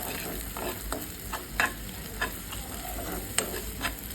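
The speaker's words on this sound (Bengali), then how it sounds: "সুন্দর করে নেড়ে চেড়ে ভেজে নেবে যাতে পেঁয়াজটাও পুড়ে না যায়" Prawn head fat and onion fry in a pan under steady sizzling, while a spatula scrapes and knocks against the pan every half second or so in a loose stirring rhythm, close and clear.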